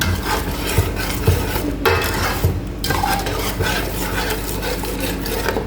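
A spoon stirs MSG and seasoning into Thai sour curry paste in a metal pot, steady scraping and clinking strokes with brief pauses, close and fairly loud.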